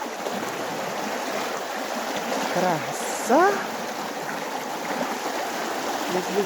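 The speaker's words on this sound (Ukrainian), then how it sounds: "Бачите, який напор, з якою силою прибуває вода і витікає." Constant rushing flow of water fills the background, loud and steady, with a short spoken word over it partway through.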